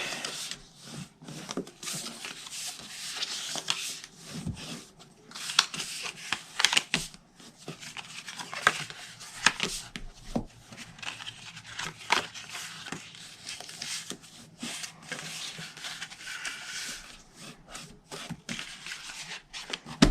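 Paper being folded and burnished by hand while making a mini stationery box: close, irregular rubbing, swishing and light crinkling strokes with small taps, continuing for about twenty seconds at a quiet level.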